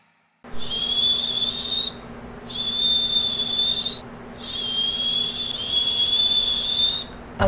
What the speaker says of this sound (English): nagpa-practice ako mag-whistle dahil ang skill na pag-aaralan ko ngayon is about whistling